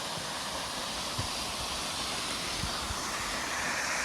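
A distant, decent-sized waterfall in the Scottish Highlands near Ben Ledi, heard as a steady, broadband rushing roar that holds level throughout with no talk.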